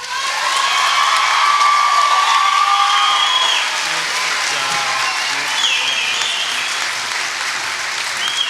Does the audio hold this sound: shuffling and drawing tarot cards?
no